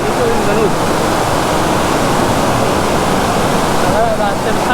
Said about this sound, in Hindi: आराम से बहुत पानी गिर रहा है।